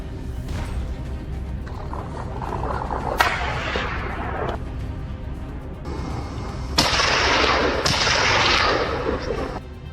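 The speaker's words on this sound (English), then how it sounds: "A gunshot rang out, and he immediately chased after the fleeing animals." Rifle shots ring out during a wild boar hunt on a snowy slope: several sharp, loud blasts spaced a few seconds apart, each trailing into a rough decay over a steady low background rumble, with no talking.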